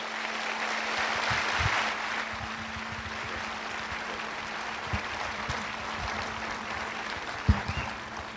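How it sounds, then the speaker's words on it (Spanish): Audience applause greets a guest speaker at a talk in Mexico, a broad steady wash of clapping lasting several seconds with a few sharper claps near the end. "un gran aplauso para recibirlo"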